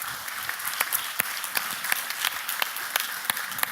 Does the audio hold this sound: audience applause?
yes